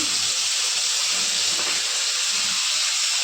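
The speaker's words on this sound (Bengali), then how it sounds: "এখন আর মাছটা ভুনা করে নেব।" Aor fish bhuna fries in a pan with salt and onion paste, a loud, close, steady hissing sizzle that stays constant throughout with no voices.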